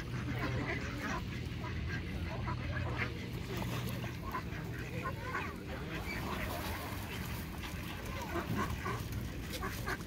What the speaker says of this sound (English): These are all the ducks.